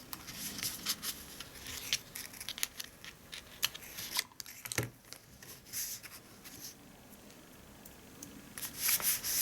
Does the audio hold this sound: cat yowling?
no